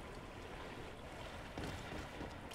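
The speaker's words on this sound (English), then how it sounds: "The sea makes weird sounds." Sea ambience in the Greedfall video game: a steady, hollow wash of waves and wind that carries on unbroken throughout, with a slightly louder swell partway through.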